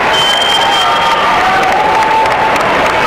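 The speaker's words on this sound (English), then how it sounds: "Let her get her applause by herself." Crowd applause and cheering fill a gym at a girls' basketball regional semifinal between Beekmantown and Watervliet, a steady dense wash of clapping held at full level throughout, with a sustained whistle-like tone running over it.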